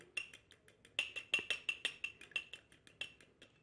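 Egg white being mixed with a spoon in a small bowl for a home face remedy, quick rhythmic ringing clinks of spoon against bowl, close and fairly quiet, no talking.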